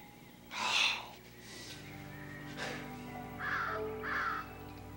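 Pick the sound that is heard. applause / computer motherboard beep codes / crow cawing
crow cawing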